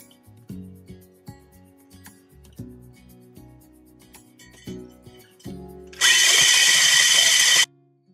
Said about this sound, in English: It's just a fantastic little drill, isn't it?